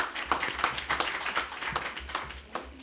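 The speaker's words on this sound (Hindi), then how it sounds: "एक बार तालियां हो जाए" Audience applause at a ladies' club installation ceremony, a steady run of many hands clapping with sharp individual claps standing out, moderately loud and alone.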